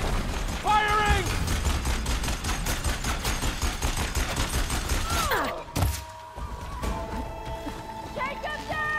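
Rapid weapon fire in Horizon Forbidden West, a dense run of repeated shots under speech, cut by a sharp mechanical burst near the middle before quieter game tones follow.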